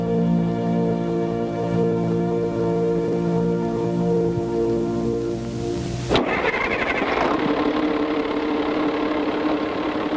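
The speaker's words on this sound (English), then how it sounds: "The Landhandler's lively turbocharged engine responds instantly to the throttle." A turbocharged diesel engine on a 1970 Allis-Chalmers 220 Landhandler farm tractor runs at a steady idle, then surges abruptly to a louder, rougher roar as the throttle opens. The sound is close and continuous, with no voices.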